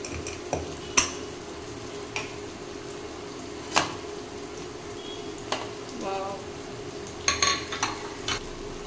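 Food sizzles softly in a pan while a utensil scrapes and clinks now and then, stirring at an unhurried pace.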